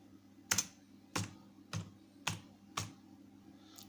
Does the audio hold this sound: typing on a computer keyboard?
yes